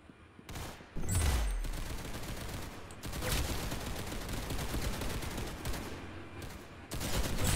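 Rapid, sustained automatic gunfire in the Roblox shooter Arsenal, loud and continuous across the whole stretch, with brief pauses between bursts and a low thump near the start.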